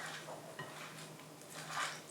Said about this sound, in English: Let's give our BLT salad a stir.